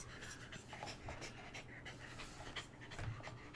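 A puppy pants close by, with quick, rapid, faint breaths in a steady rhythm and no talk during the clip.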